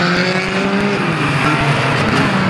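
Banger racing cars roar off at a Mildenhall gala race meeting, a loud, continuous engine drone with revving pitch that rises and falls as the pack gets underway, close and unbroken.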